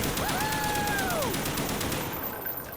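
An HK21 machine gun fires in Black Ops zombies on the Kino Der Toten map. The burst is a loud, sustained rattle of rapid shots, and a rising electronic tone sweeps over it before the firing fades near the end.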